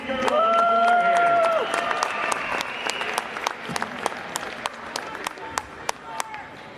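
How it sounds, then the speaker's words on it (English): A gym crowd at a high school basketball game applauds the girls on the floor with broad, sustained clapping that trails off into scattered claps, with a voice heard over the opening. "Nice round of applause for all these girls on the floor here."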